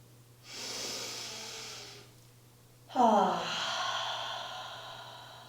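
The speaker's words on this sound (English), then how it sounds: "Take a deep inhale." A slow, deep breath taken during yoga practice: a soft airy inhale, a pause, then a louder, fuller breath that swells and lingers, close to the microphone over a faint steady hum.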